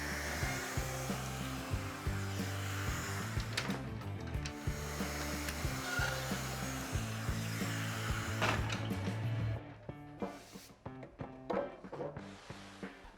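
A power drill runs steadily while boring holes in an MFT cart, a sustained whirring drone for most of the span, then stopping and giving way to clattering, knocking handling sounds near the end.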